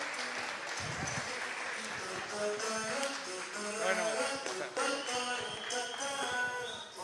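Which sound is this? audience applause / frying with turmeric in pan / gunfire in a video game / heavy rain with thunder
audience applause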